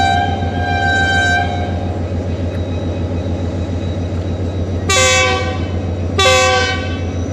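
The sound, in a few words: Shalimar Express passenger train passing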